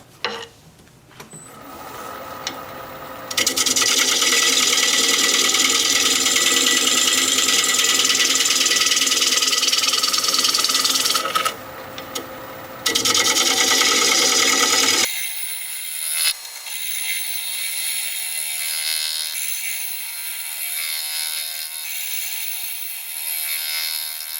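A gouge cuts into a spinning wood blank on a lathe, shaping its square ends. A loud, steady rattling chatter runs in long bursts with short pauses, then gives way to the quieter whir of the lathe running on.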